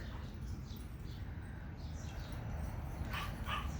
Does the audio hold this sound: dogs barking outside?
yes